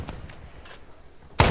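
A single loud mortar blast in an ArmA ALiVE scenario lands near the end, preceded by faint distant thumps of fire in an otherwise quiet stretch.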